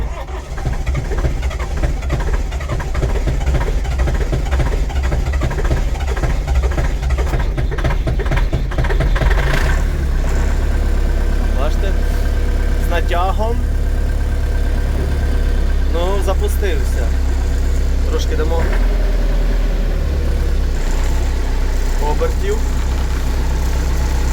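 A DTZ 504 tractor engine starting and running in winter, a steady loud diesel rumble that carries through the whole stretch with uneven knocking early on, while a voice talks over it.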